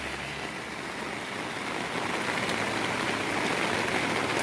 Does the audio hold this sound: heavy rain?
yes